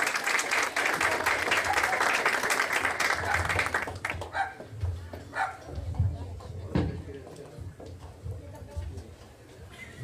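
An audience claps in dense, steady applause for about four seconds, then it thins to scattered claps amid murmuring and shuffling.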